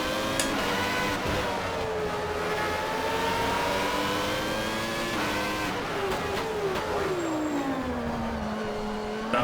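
A 1996 Formula One car in the Automobilista racing game screams at high revs around Albert Park, its engine pitch climbing and dropping through gear changes, continuous and close throughout.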